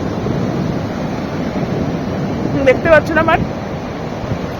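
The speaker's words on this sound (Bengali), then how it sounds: "মারাত্মক ঢেউ আসছে মারাত্মক" Heavy sea waves at the beach in Puri make a loud, continuous roaring wash of surf, and a voice speaks briefly over it.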